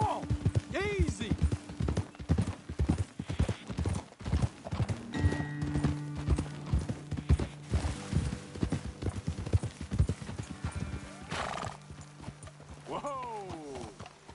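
Horses trot and slow in Red Dead Redemption 2, their hooves clopping at a quickening and then easing rhythm. A horse neighs, a rider calls out over the hoofbeats, and music plays in the background.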